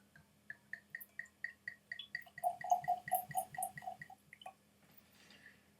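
J.P. Wiser's Triple Barrel Rye whisky poured from a bottle into a glass: a close, quiet series of about twenty rhythmic glugs that quicken, then a few last drips.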